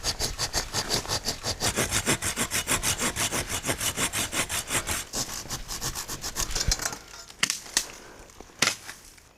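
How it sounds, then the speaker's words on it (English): A handsaw cutting a wooden stick outdoors, with fast, even back-and-forth rasping strokes close up that stop after about seven seconds, followed by a few knocks and scrapes. "Now we're going to test the handsaw."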